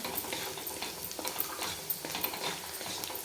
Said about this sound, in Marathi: आणि नंतर आपण जो मसाला काढून ठेवला होता तो टाकून घेऊ अर्धा छान परतून घ्यायचं